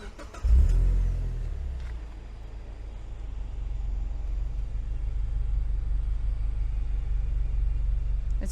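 2007 Mazda Miata MX-5 engine giving a sharp rev blip at first, then settling into a steady low idle rumble that gradually grows slightly louder, close by with no talking.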